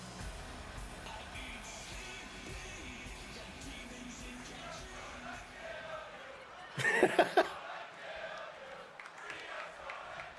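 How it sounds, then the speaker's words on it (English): Wrestling crowd at an ADW match before a one-on-one bout, a steady dense roar of many voices filling the arena, with a brief louder burst of shouting and cheering partway through. "The crowd chanting, "Rhea's gonna kill you," as we get set for this matchup here."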